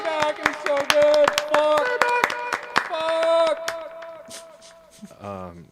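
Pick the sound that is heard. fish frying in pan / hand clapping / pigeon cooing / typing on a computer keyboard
hand clapping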